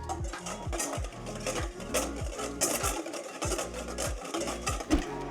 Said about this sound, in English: you're going to continue to whisk until it fully comes together